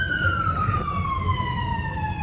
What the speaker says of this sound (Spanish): Siempre que contamos esta parte se oye una sirena